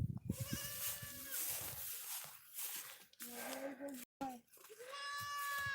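Goats on a farm bleat loudly and repeatedly, including young kids with their mother, in wavering cries close by, with brief speech between the calls.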